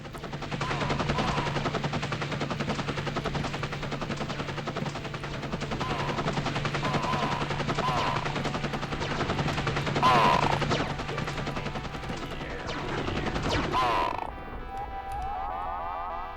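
Video game helicopter squadron attack: continuous rapid machine-gun fire and gunshots over a dense mechanical roar, loud and steady throughout, with a few brief bursts standing out near the end.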